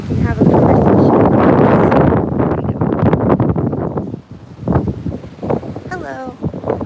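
Strong wind buffets an outdoor microphone, a loud continuous roar that eases and gusts again, with a person speaking through it.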